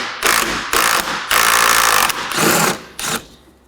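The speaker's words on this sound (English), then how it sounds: "I'll be using a 13mm to remove these." A 13mm socket on a ratchet or power driver spins out the strut cover bolts on a 2013-2019 Nissan Sentra, giving several loud buzzing whirring bursts of about half a second each with short gaps between them, close and with no talk.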